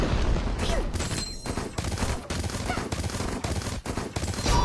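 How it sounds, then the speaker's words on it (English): Rapid explosions and gunfire-like bursts crack and boom one after another in a video game battle. The dense, loud volleys run throughout the clip. "放心，只是爆炸而已"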